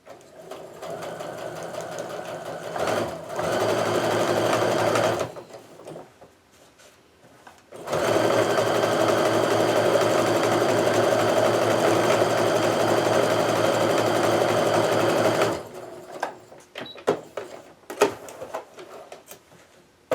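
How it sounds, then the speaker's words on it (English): A sewing machine stitches small triangle pieces onto a quilt block, running in two bursts, a short one and then a longer steady run of about eight seconds, with quiet handling pauses between and after. "I'm going to go ahead and sew my final little triangle on here before I press."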